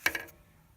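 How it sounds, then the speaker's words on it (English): A headlight bulb connector is slid off on a 1996 Honda Accord passenger low beam: one short plastic scrape and click, close and quiet, followed by near silence. "And slide the connection off."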